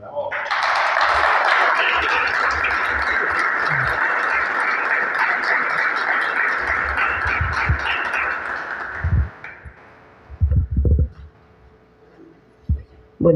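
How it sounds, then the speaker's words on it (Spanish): Audience applause welcoming a lecturer at a seminary talk on Latin and philosophy: a dense, steady burst of clapping for about nine seconds, then fading into a few scattered claps and room noise. "La recibimos con un aplauso."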